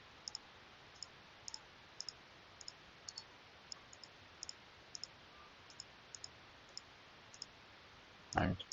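Computer mouse clicks, a series of faint, evenly spaced single and double clicks over low background hiss, with a brief louder noise near the end.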